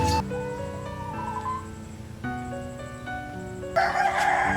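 A rooster crows loudly and close at the end of a stretch of steady music, its harsh call rising sharply over the background.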